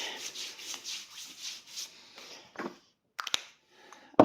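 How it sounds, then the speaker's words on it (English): A few sprays of a healing product followed by rubbing it into skin, giving soft, close, rhythmic brushing strokes that fade out, with brief sharper handling noises near the end. "Literally just take off the lid, a few sprays, and rub it in."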